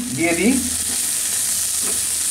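Prawn heads frying with onion in a hot pan, a brief louder stir near the start giving way to a steady soft sizzle close by.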